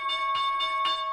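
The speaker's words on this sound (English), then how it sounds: "There's the bell." Stock market opening bell ringing in quick repeated strokes with sustained ringing tones between them, clear and alone.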